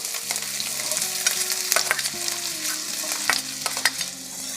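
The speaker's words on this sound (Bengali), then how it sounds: "রসুন আর আদাটা লাল লাল করে একটু ভেজে নিয়েছি এবার দুটো পেঁয়াজ কুচি দিয়ে দেবো" Garlic, ginger and chopped onion frying for chicken keema paratha, a loud, dense sizzle close up with repeated scraping stir strokes throughout.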